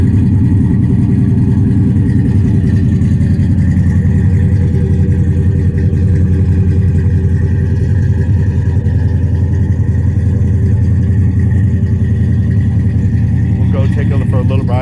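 A 1967 Pontiac GTO engine runs steadily close by, a loud, continuous low rumble that holds an even idle-like drone throughout with slight swells suggesting light revving.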